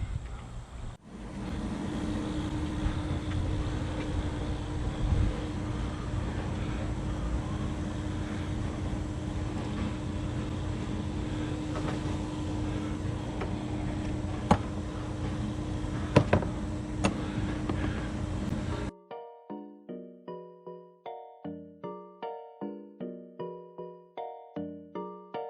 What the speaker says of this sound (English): I've got the air compressor pumping up.